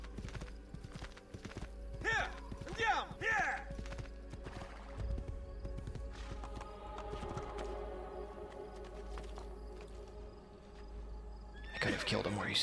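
A horse whinnies twice in Assassin's Creed 2 amid steady clip-clopping hooves, with a sharper burst near the end, under a low background hum.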